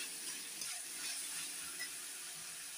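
Onions sautéing in a pan with rock salt while poori masala is prepared, a steady, faint, hissy sizzle that holds evenly throughout with no voices.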